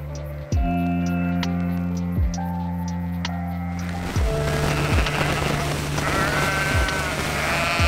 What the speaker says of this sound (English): I think the sheep are running through to get at the new grass.